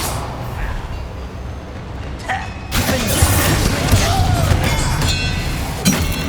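A loud Bombarda spell explosion in Hogwarts Legacy erupts as a sudden broad blast partway through, over a busy rumbling background, with a voice briefly audible.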